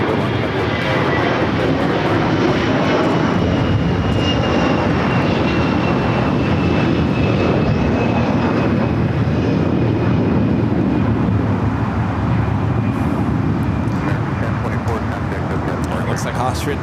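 An American Airlines A321 jet takes off from runway 25 right at LAX. A sustained, loud engine roar with a faint rising whine runs through the clip under steady wind noise while a voice talks.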